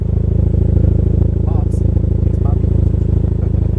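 A 1995 Toyota Celica GT-Four ST205 engine idles steadily and loudly up close, its fast even pulsing carrying a light ticking exhaust tap, with a couple of faint high chirps over it.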